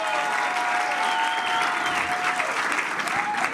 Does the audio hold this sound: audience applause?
yes